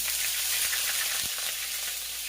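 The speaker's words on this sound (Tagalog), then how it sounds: "unahin muna natin gisa yung luya" Ginger sautéing in oil in a pan as the first step of chicken tinola, a steady close hiss and sizzle with a faint knock partway through.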